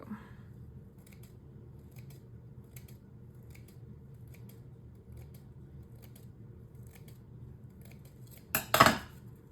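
Scissors trim craft material for a mixed media wishing well; after a near-silent stretch with faint ticks, one short crisp snipping burst sounds close at the end.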